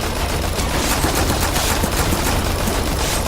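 Rapid automatic fire from a gun with a machete attached in Dead Rising 3, a loud, unbroken stream of shots lasting a few seconds, with no voices.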